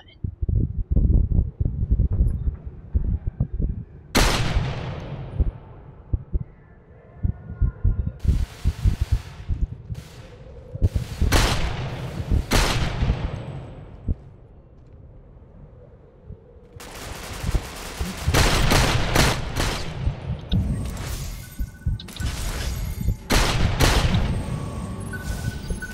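Gunfire in the video game Ghost Recon Phantoms, with sharp bursts and automatic volleys in irregular clusters, loud and close, scattered through a long stretch that also carries player chatter.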